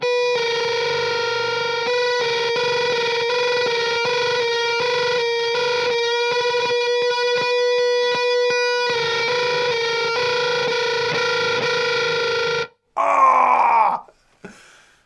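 Electric guitar through a gated fuzz pedal holds a thick, buzzing sustained tone, chopped by abrupt gated cutoffs and stutters, then ends with a brief harsh squeal before silence.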